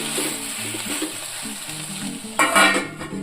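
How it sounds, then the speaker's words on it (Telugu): Brinjal curry sizzling and frying in a pan as it is stirred, a steady close hiss with soft scraping, growing louder and busier near the end; no talking. "కూర తిప్పుదాము. చూడండి మగ్గిపో వచ్చేసింది."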